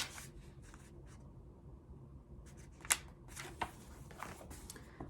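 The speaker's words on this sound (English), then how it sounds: "go ahead and pull the rest of these cards" Tarot cards are handled and pulled in short bursts of faint papery rustling, with a couple of crisp snaps as cards are drawn, all close and quiet.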